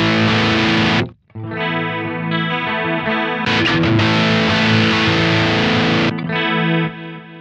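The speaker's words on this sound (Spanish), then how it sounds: "vas a escuchar que tengo distorsión en el C y canal limpio con chorus en el D" An electric guitar runs through a pedalboard, first on a heavily distorted preset with sustained chords, then switched after a brief gap to a clean channel with chorus. The playing is loud, continuous and close.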